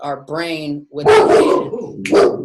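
A pet dog barks and yelps indoors at home, interrupting a woman giving an online talk; the sharp, close barks come in short bursts mixed with and between her speech.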